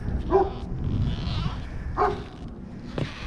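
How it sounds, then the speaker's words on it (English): A neighbor's dog barks outside a Jayco Escapade 28 Class C RV, three short barks spaced about a second apart, moderately distant and clear against a quiet background. "Don't mind the neighbor dog, he barks at everything."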